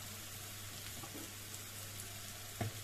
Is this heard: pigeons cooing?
no